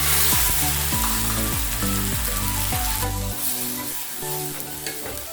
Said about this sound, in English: Next guys, we are going to add in our tomatoes.